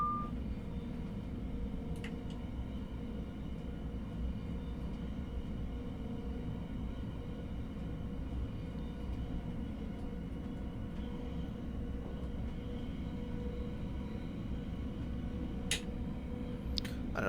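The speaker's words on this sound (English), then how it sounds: "And another Thameslink service just passing us there" A Thameslink train passes in the Train Simulator 2022 game on the Chatham Main Line, a steady low rumble heard from inside another train, with a couple of brief sharp clicks near the end.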